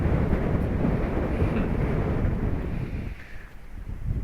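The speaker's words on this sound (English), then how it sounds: "it's so windy here." Heavy wind buffets the microphone, a loud low rumble that rolls continuously and dips briefly near the end.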